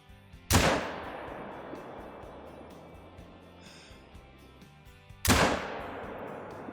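Two loud 7mm rifle shots in a video game, about five seconds apart, each a sharp blast with a long rolling echo that trails away between them.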